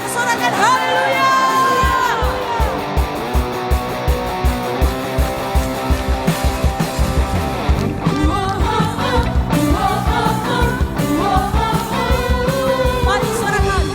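A church congregation at an Easter service of GPdI Ekklesia Gorontalo cheers, whoops and shouts hallelujah together, a loud sustained crowd roar with rhythmic bursts and music underneath.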